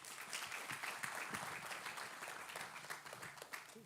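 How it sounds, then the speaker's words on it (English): Audience applause at an evening church event, a continuous wash of many hands clapping, moderately distant and fairly soft, steady throughout with no voices standing out. "Give a round of applause, please."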